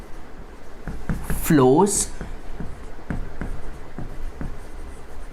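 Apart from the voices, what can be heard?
writing on a board during a physics lecture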